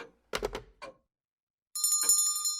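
A small bell tied to a man's finger rings in a short, bright jangling burst near the end, after a few dull knocks and a silent pause.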